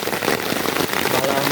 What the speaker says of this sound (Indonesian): Hujan makin besar